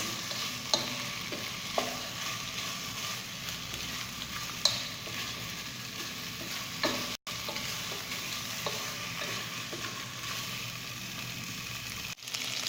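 Merguez sausages cooking over a gas stove give a soft, even sizzle with occasional stirring clicks and a couple of brief dropouts, quiet and without speech.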